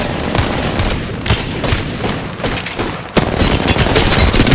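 Rapid bursts of Wingman pistol hipfire in a video game, loud repeated gunshots crowding one another with a sharp heavier blast near the end, no talking over them.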